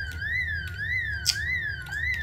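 An alarm in the video game Project Zomboid wails steadily in a fast repeating rise-and-fall pattern, holding at one level throughout with a faint low hum beneath.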